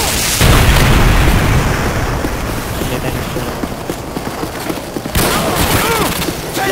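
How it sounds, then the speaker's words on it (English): In the video game Call of Duty MW2, Predator missile explosions boom loudly, with a heavy blast near the start and another around five seconds, and dense rumbling gunfire and crackle fill the space between them. "Friendly Predator missile inbound."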